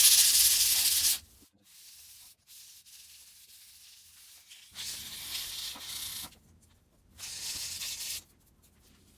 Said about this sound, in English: start off with 600 grit paper and a cork sanding block